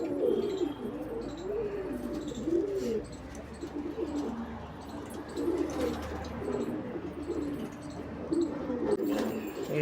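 Andhra pigeons, including a breeding hen, coo nearby in repeated rolling phrases, several overlapping birds calling steadily across the whole stretch against a soft background hum.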